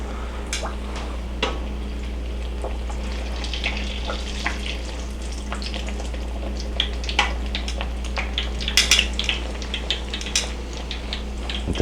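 Sopapilla dough puffs as it fries in hot oil, giving a steady low bubbling bed with scattered crackles and a few sharp clinks of a utensil against the pan.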